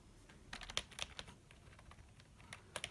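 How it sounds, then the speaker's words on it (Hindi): Clicky keys on an HP K500F gaming keyboard being typed on, a quiet, close, irregular patter of sharp clicks with a few louder strikes. "तो देखो क्लिकी का आवाज़ आता है कि नहीं"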